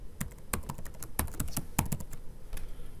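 Someone types a username on a computer keyboard, producing a quick, irregular run of close, crisp key clicks with short pauses and no talking.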